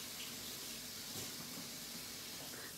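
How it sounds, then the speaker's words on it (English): Kitchen tap water running over rinsed leeks, a faint, steady hissing flow with slight splashing, continuous and without speech. "I'm going to run the water through that."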